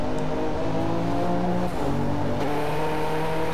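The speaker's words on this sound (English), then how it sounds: "You can hear the flat 6 tone a bit." A W Motors Lykan HyperSport flat-six engine in the racing game Driveclub drones steadily at high revs, its pitch stepping down and climbing again through gear shifts, with a buzzy, sustained tone.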